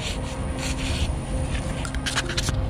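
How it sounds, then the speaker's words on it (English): Close, steady rubbing and scraping as rust is wiped off an old air conditioner capacitor, with a continuous gritty texture and short bursts of brisker strokes toward the end. "wiping some of the rust off"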